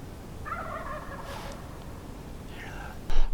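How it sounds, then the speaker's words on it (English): A Merriam's wild turkey gobbles twice in the distance on Nebraska public land, each rattling call short and separated by a pause over faint outdoor background noise. "He's kind of just sporadically gobbling."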